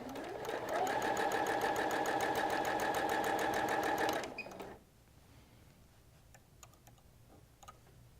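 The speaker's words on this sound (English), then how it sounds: "I can tell it to start, and I'm just going to pull my thread so that whenever I start sewing forward" Sewing machine stitching during free-motion quilting, a close, steady rapid mechanical whir with ticking needle strokes for about four seconds before it stops, leaving quiet room tone with a few faint clicks.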